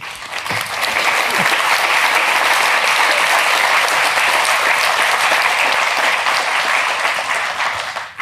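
Loud, sustained applause from an audience after a talk on leadership, a thick continuous roar of clapping close by that stays even throughout and cuts off abruptly at the end.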